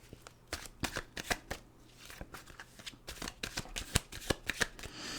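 Tarot cards being shuffled up close, a quick series of sharp riffling flicks and taps in uneven bursts, crisp and fairly quiet with no voice.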